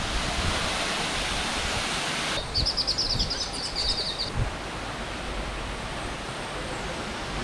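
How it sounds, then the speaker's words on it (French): Steady rushing splash of a completely artificial waterfall in the mangroves of Guadeloupe, filling the clip as constant broadband noise, with a brief burst of high chirping birdsong partway through. "Une cascade complètement artificielle,"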